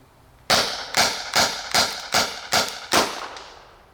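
Six sharp cracks from a small air pistol firing large 50 caliber rubber balls from a six-round drum, evenly spaced about half a second apart, close and loud, each with a short decaying tail.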